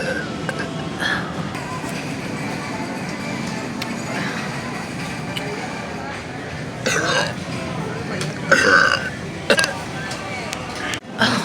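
A woman burps repeatedly and loudly in a busy grocery store, several drawn-out belches rising above steady background chatter and store noise, with her own talk mixed in between.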